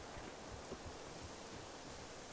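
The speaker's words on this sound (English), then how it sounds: "Man, that rain's getting loud." Rain falls in the video game Generation Zero as a steady, dense hiss that holds unchanged throughout. It sounds like a faint, even wash of drops with no other clear sounds.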